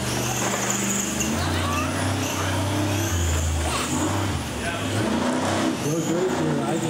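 R/C monster trucks racing at an open-house sport mod event, their small electric motors whining steadily at close range under continuous announcer commentary, with pitch shifts as the trucks accelerate and turn.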